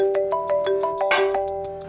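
A mobile phone rings with an incoming call, a close, clear repeating tonal melody of short rhythmic pulses over a steady hum, with no voices.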